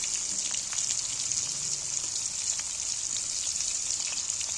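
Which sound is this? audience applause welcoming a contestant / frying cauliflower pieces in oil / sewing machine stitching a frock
frying cauliflower pieces in oil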